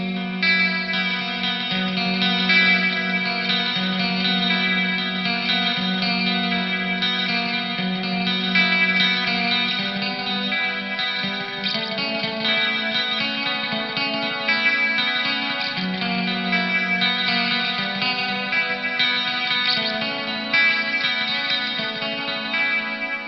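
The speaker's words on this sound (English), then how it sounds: "It's a clean sound with a bunch of effects on it. There's chorus, there's a multi-tap delay and some spring reverb on it." Marshall CODE 25 amp on a clean electric guitar patch with chorus, multi-tap delay and spring reverb, played continuously at a steady, full level, with shimmering chords and echoing repeats and no talking.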